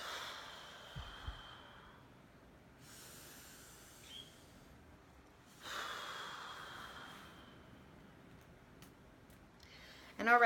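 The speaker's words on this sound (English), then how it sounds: "And then you take a deep breath in at each point." A slow, deep breath drawn in during a stress-relief relaxation exercise, soft airy inhalations and exhalations with faint hiss, close and quiet, heard alone with no talking.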